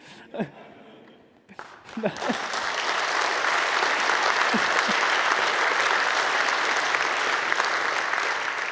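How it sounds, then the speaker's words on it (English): Applause from the audience at a 28C3 hacker conference talk swells after a few words from the speaker, building into loud, dense, sustained clapping that carries on steadily to the end. "The applause is for Kabul, of course, not for me."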